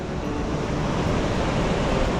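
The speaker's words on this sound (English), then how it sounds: "And there's the Pacific Ocean." Broad, steady rush of Pacific Ocean surf rolling onto a beach by a river estuary on a clear day, a continuous wash of breaking waves with some wind noise on the microphone and no voices.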